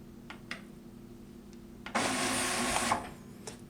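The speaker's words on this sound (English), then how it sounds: "we will hit the feed button" A few faint clicks, then a Sato CL4NX Pro label printer whirs for about a second as it feeds a label through, then stops.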